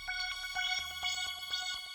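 A Serum wavetable synth runs a sequenced Dancer pattern through the Portal effect, giving a quiet rhythmic run of short bright pulsing notes with a shimmering, warped tone and no voices.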